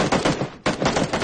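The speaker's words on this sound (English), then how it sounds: "What are you shooting, Jin?" Gunfire from the zombie video game Dying Light comes as a rapid burst of loud shots, a brief gap, then another quick volley, all within about a second.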